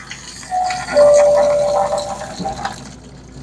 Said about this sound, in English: So now the water's draining out